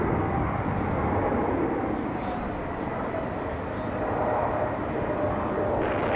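An Airbus A220 jet at Raleigh-Durham airport, a broad steady engine roar that swells and eases slightly, heard from some distance and continuous throughout.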